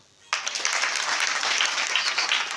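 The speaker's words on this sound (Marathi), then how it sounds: "टाळी वाजवा." Sudden burst of audience clapping at a comedy kirtan, starting abruptly after a brief quiet moment and continuing as a dense, steady round of applause.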